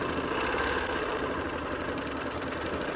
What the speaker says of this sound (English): I'm kind of sewing at a funny angle so you could see it, so my arm is not in the way